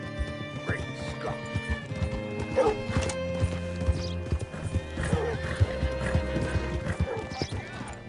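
Horse hooves clip-clopping steadily with repeated whinnies and snorts in Red Dead Redemption 2, close and clear, with game ambience and voices in the background.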